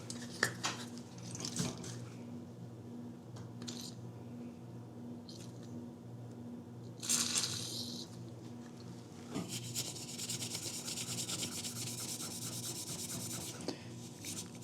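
Someone rubs and scrubs the rusty outside of a vintage Snap-on metal toolbox, repeated close-up rasping and scouring strokes with scattered clanks and louder scrubbing bursts, and no talk.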